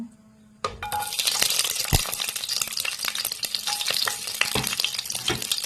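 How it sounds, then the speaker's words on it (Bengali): Garlic hits hot oil in a pan while cooking cauliflower, bursting into a loud, steady sizzle after a brief quiet moment, with light clinks of a stirring utensil scattered throughout. "রসুন দিয়ে একটু বাজি নেব"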